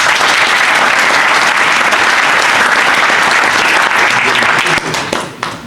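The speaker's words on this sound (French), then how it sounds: "on peut l'applaudir" At an autocross club's general meeting, the gathered members give Gérard loud, dense applause that holds strong for several seconds, then thins and fades out near the end.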